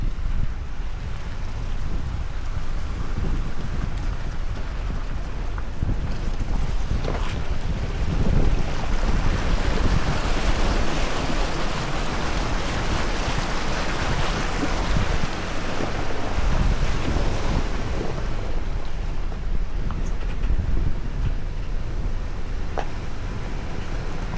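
An off-road vehicle fitted with locking differentials fords a small river in Georgia, a steady loud wash of rushing water and wind noise that covers any engine sound, with no speech.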